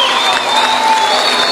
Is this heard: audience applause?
yes